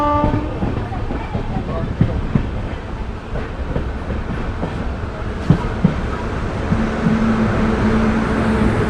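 The 14505 Nangal Dam Express pulls into a station. A steady, loud rumble fills the inside of the carriage, with scattered wheel clacks and a low drawn-out tone near the end.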